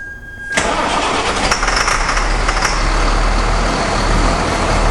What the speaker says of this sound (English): good solid running engines, good drivers